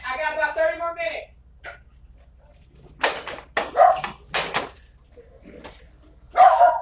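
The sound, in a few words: dog barking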